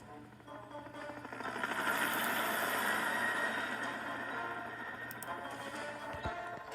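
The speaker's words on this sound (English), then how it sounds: "One morning, Harold the helicopter was rescuing some climbers from the rocks near Callan Castle" Harold the helicopter from Thomas & Friends drones steadily, a continuous mechanical whir that rises over the first seconds and holds at moderate loudness.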